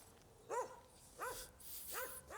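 Three separate barks from a dog in a Moroccan neighborhood, spaced about a second apart, moderately near against a quiet street background.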